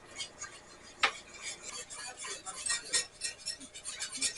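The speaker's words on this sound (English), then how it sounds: "Okay, so we will just keep this stirring." A spoon stirring cocoa into milk in a pot, soft repeated scraping and light metallic clinks at a steady pace, with one sharper clink near the start.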